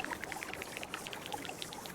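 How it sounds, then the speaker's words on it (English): Water poured into the terrain in the video game Terra Nil, a quiet run of small bubbling plinks and trickling drops at an even pace over a soft ambient bed. "get some water in here as well"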